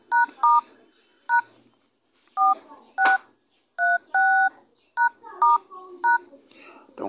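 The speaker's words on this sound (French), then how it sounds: "vous allez taper le code suivant" Touch-tone keypad beeps from an Android phone dialing a star-and-hash service code: about a dozen short, clear tones in an uneven sequence, each distinct and close, with quiet pauses between them.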